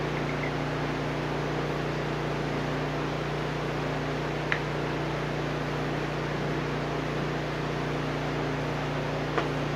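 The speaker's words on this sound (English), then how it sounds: "That noise you're hearing in the distance is the generator that John Hepner needs to use to attract mot" A generator powering moth-attracting lights at night in the Panama jungle hums steadily in the distance, a low, constant drone under faint hiss with a couple of brief clicks.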